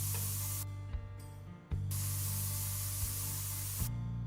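Spray painting in a town-painting game gives a continuous loud hiss, broken by a few brief gaps as the nozzle stops and restarts, under a steady low hum with no voices.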